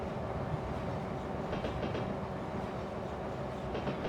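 A Sacramento Northern steeplecab electric train running in Train Simulator, a steady loud rolling rumble with soft rhythmic clickety-clack from the wheels, continuous and close.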